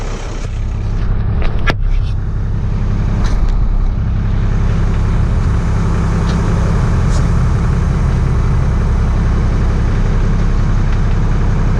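A Ford L8000 truck engine idles with a steady, loud low rumble filling the whole stretch, with a couple of brief sharp clicks near the start and a faint hiss and clatter over the drone.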